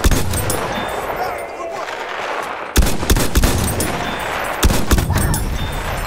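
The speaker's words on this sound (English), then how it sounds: "Machine gun!" Gunfire rattles through a Battlefield 1 Domination match, bursts of automatic fire cracking out loudly in several volleys, with sharp spikes near the three- and five-second marks over a dense battlefield din.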